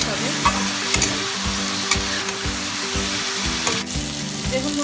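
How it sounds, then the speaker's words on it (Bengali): Water lily stems fry with spices and prawns in a pan, a loud close sizzle with regular scraping stirs of a spatula, roughly one stroke every half second. "তারপর আমরা খাদ্যটাকে ভালো করে ভেজে নেবো মশলার সাথে"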